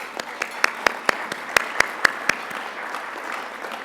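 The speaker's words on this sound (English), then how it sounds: "I want to give them a round of applause." A round of applause at an HR achievement awards ceremony, a broad wash of clapping with a few sharper individual claps standing out, fairly distant and steady before thinning out toward the end.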